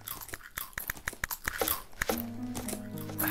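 Crunching noises in the video game Towns come as a rapid run of sharp, crackly bursts, fairly loud, with a low tonal hum entering near the end.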